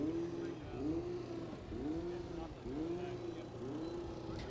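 A Formula SAE race car engine repeatedly revs up through the gears in rapid rising sweeps during an acceleration event, heard from a distance with steady background noise.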